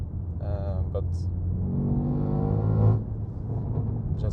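BMW M3 Competition engine running with a deep, loud rumble that rises in pitch as it revs, then drops back to idle, with people talking over it.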